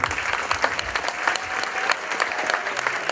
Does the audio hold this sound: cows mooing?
no